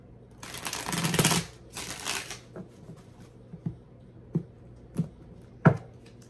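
Two quick riffle-shuffles of a tarot card deck, each a short papery burst, followed by several soft taps as the cards are squared up.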